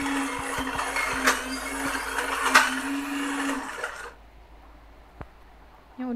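A blender grinds boiled peanuts for a gado-gado peanut sauce, with a loud steady motor whine and a few sharp pulses. It cuts off abruptly around four seconds, leaving faint room noise and one brief click.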